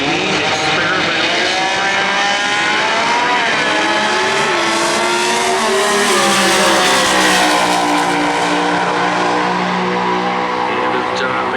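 A race car with a 265 cubic inch Ford engine at a points race, a loud, sustained engine roar with rising and falling pitch as it runs, with an announcer talking over it.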